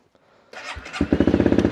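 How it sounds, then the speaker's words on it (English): A cheap motorcycle engine starts from cold after a starter whirr, catching into a loud, rapid, rough exhaust putter close to the microphone. "And that exhaust sounds horrific."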